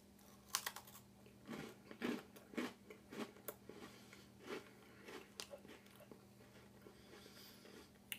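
Close crunchy bites and chewing on a sprinkle-covered Voortman holiday cookie, a run of irregular crisp crunches that thin out toward the end, over a faint steady hum.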